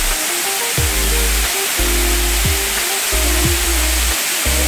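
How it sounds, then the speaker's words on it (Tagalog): A waterfall almost 50 feet high, on a farm lot in Guinyangan, Quezon, roars as a loud, constant wash of falling water, with low rumbling thumps pulsing underneath and no talk. "ito po yung pinakamataas na falls na po"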